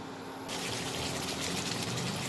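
Water pours into a simmering Bengali doi katla fish curry, a sudden loud gushing rush that starts after a brief quiet moment and then continues steadily and close.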